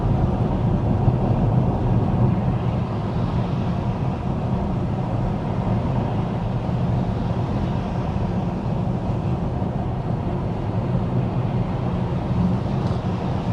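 Inside a 2024 Chevy Equinox EV cruising at 55 mph, a steady low road and wind roar fills the cabin, even and unbroken throughout with no voices.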